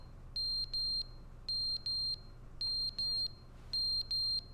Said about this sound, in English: I think the smoke detector needs to be changed.